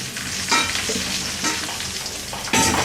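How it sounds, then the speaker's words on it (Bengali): Raw mango pieces fry in hot mustard oil in a pan, giving a loud, steady sizzle broken by scraping stirs at regular intervals. "তার মধ্যে আমি এই আমগুলা দিয়ে দিব"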